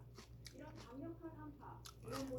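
Braised and shredded cabbage is eaten up close, giving soft, quiet crunches and bites in a loose rhythm, with a low voice murmuring briefly between mouthfuls.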